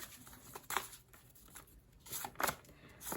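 Tarot cards shuffled and drawn during a reading, giving soft papery riffles and brief flicks in scattered bursts, with a voice speaking quietly in places.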